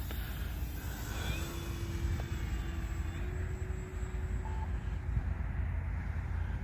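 A faint, thin engine whine hums steadily over outdoor background noise, rising slightly in pitch, like a small model plane flying some distance away: an FMS P-47 Razorback radio-controlled model airplane with a 1500mm wingspan.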